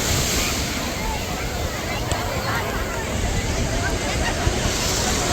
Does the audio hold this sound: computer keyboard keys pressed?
no